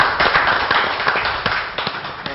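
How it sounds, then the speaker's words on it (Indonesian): A short round of applause from an audience at a COVID vaccination event in Pekalongan, steady scattered clapping of moderate loudness that tapers off over a couple of seconds. "Aplaus untuk beliau berdua."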